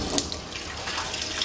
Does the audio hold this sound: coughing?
no